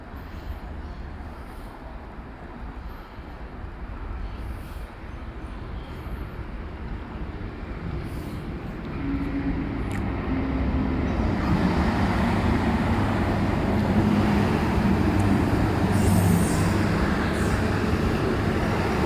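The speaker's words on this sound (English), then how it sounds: "Shortly arriving alongside Platform 1, we have an Endeavour N-set bound for Newcastle Interchange." An Endeavour passenger train rumbles in steadily to a platform, its low roar and rail noise building louder over several seconds as it draws close, with no talking.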